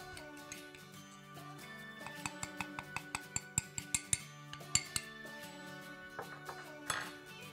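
A bar spoon stirs orange bitters and sugar in a cocktail glass while making a Colorado Old Fashioned, giving a quick run of bright, evenly spaced metallic clinks against the glass, close and alone.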